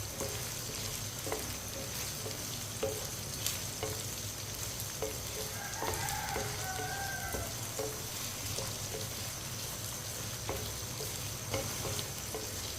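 Okra frying and being stirred in a hot pan over fairly high heat, a steady dense sizzle with light scraping and stirring taps running continuously throughout, no talk.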